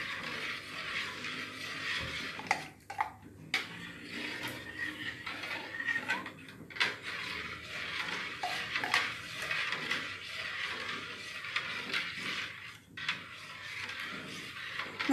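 A spoon stirs milk, coconut milk and blended spice paste broth in a pot for celimpungan, with soft repeated scraping and clinking of metal against the pot at moderate volume, mostly without talk.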